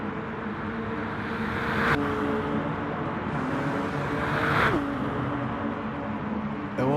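A V8 race car in a racing video game sweeps down the pit straight. Its engine note drones steadily, then rises and drops in pitch as it passes twice, fairly close, with no talking.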